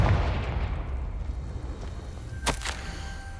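A Confringo fire spell explodes in Hogwarts Legacy on PS5, heard as a deep rumbling boom that fades slowly, followed by a couple of sharp crackling bursts.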